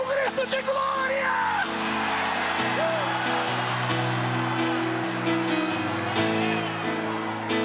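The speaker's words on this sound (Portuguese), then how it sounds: "debocha de Satanás e dá um grito de glória." An Assembly of God church congregation lets out a loud collective cry of glory, mixing yells and whoops from the crowd over sustained organ or keyboard chords in a large hall.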